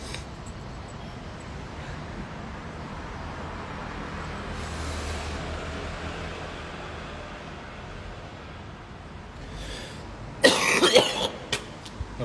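A single loud, close cough bursts out near the end over a faint background hum of road traffic, with quiet room tone before it.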